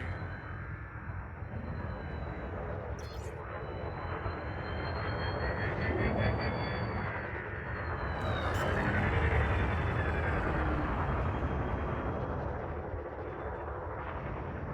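A spacecraft in a video game comes in to land on a landing pad, with a steady, loud engine roar and rumble that swells and eases throughout, plus a couple of brief hissing bursts along the way.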